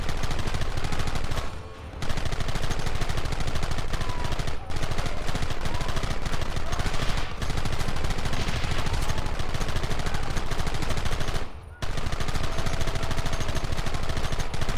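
Dense, continuous gunfire from a ranch shootout in Red Dead Redemption, rapid overlapping shots filling nearly the whole stretch with only brief lulls, loud and close.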